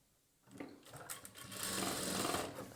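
A sewing machine runs close by stitching a chudidar bottom, starting from near silence and building into a steady continuous whirring hum with a light rapid needle rhythm.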